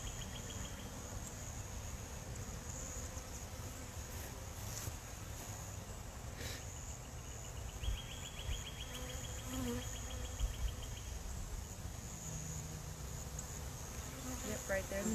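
Honey bees buzz steadily around an open hive, a dense, continuous insect drone close by with a few brief higher whines from passing bees.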